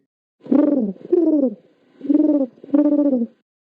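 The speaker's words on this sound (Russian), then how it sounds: "Голубь." A pigeon coos four times in low, soft, throaty notes, close and steady, with short gaps between each call.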